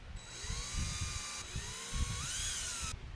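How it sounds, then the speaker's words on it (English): Power drill boring small mounting holes for a Yak Attack through-hole fitting during a wiring kit install, a whining motor that revs up and down in two bursts, with rumbling bit contact underneath, fairly quiet. "Now I just gotta drill my holes to mount the Yak Attack through hole in there."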